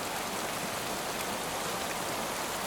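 Steady rain pours down in a Busan street during a motorbike trip, with a dense, even hiss of drops on surfaces throughout, close and fairly loud, with no voices.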